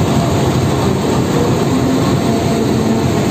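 Loud, steady rumble and rushing noise inside a moving economy-class passenger train carriage on the Tawang Alun line between Malang and Jember, continuous throughout with no voices.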